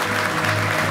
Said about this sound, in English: If we could give a round of applause